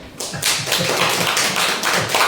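A small audience claps steadily after a poem recital, an even run of fairly close, crisp claps lasting a couple of seconds with no talking.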